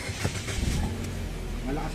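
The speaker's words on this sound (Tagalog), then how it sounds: "Kaya ipa-start ko itong makina." A Mitsubishi Xpander engine runs at a steady idle close by, a low continuous rumble with faint clicks and shifting mechanical noise.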